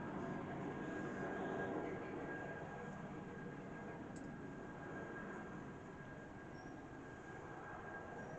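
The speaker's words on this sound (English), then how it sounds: "Maybe we can find out who the offending helicopter is." An LA County Fire Department Bell 412 EP helicopter passes overhead, a faint, steady distant rotor and engine drone washing through the background without distinct beats.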